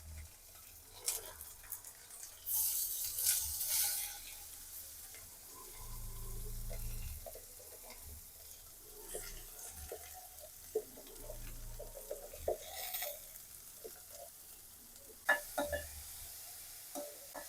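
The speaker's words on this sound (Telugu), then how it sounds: "సో ఇందులో వచ్చేసి మనకు మిర్చి ఆనియన్స్ వేస్తున్నాను." Chillies and onions fry in a pan with a faint, uneven sizzle, broken by scattered clinks and stirring noises, quiet and without talk.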